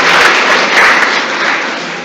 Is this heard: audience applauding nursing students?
yes